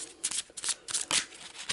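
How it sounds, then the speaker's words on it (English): A deck of cards shuffled for an Arkham Horror board game, with several quick crisp riffling bursts close by in a brisk rhythm. "now we'll shuffle that in"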